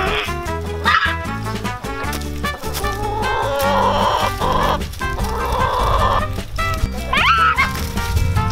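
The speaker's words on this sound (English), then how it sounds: "Be in a chicken coop for 5 minutes and pretend to be a chicken." Chickens cluck and squawk busily in a loud, crowded jumble, with dog-like yips mixed in and no clear speech.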